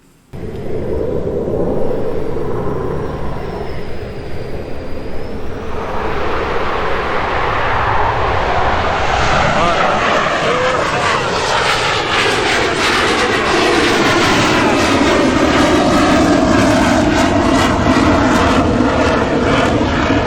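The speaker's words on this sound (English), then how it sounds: "my number 4 con of living in Chesapeake, Virginia would be the jet noise" Loud military jet aircraft passing overhead near Chesapeake, Virginia, a roaring rumble that swells after a few seconds and holds strong and steady to the end, with no voices.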